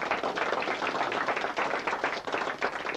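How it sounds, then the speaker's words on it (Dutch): Lively, close applause from a crowd at a Frisian strongman contest in 1987, rapid overlapping claps that pulse slightly in intensity over a few seconds. "dat mag ook wel een applaus"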